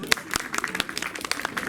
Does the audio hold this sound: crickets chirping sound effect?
no